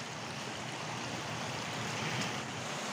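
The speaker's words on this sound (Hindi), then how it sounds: "ये है वाटरफॉल। वाटरफॉल है ये।" A village waterfall makes a steady, dense rushing roar of falling water, even and continuous with no pauses, filling the whole moment.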